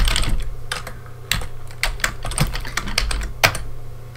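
Rapid, uneven keystrokes on a computer keyboard while code is entered into an editor, close and clear, with a steady low hum underneath and no talking.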